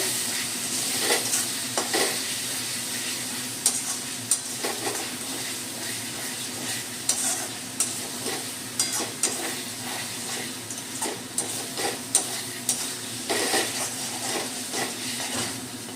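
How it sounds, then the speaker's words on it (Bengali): Chili powder fries in hot oil while a spoon scrapes and stirs it around the pan for an egg curry masala; a steady sizzle runs beneath repeated stirring strokes, close and fairly loud, with no talking. "1 চামচ লঙ্কার গুঁড়ো, ভালো করে কষিয়ে নেব।"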